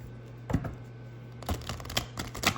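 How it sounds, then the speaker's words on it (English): Cards being shuffled in a few quick riffling bursts, close and crisp, with short pauses between. "Let me go ahead and shuffle."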